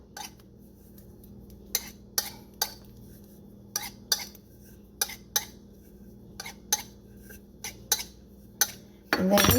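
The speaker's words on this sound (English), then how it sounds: "take a regular knife, butter knife, and just go around, bring the knife down like so" A butter knife trimming pastry around the edge of a pie dish for a chicken pot pie, a string of sharp little clicks and scrapes against the dish at uneven intervals, close and quiet.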